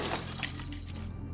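A car's rear windshield shatters in one loud burst of breaking glass, with crackling shards trailing off over about a second before the sound cuts out.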